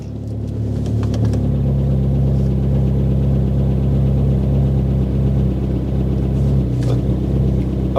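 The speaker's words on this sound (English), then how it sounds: "That's got to be a fuel problem." A cheap Mini Cooper S engine with a suspected fuel problem idling, a steady low rumble with a slight rise in revs near the start and a mild wavering hum throughout.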